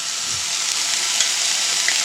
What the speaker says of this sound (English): You see that sizzling? That's what you want to hear, guys.